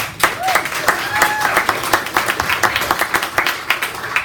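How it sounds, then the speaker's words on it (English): An audience at an apartment-investing event gives a round of applause, moderate and fairly close, with individual claps standing out in a loose rhythm and faint voices underneath. "Feel free to give Jay a round of applause too."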